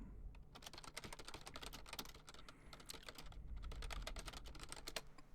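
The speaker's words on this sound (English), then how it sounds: "why am I speaking as I'm typing?" Rapid, steady typing on a computer keyboard rattles on without pause at close range during a music mastering session, with dense irregular key clicks and no talking.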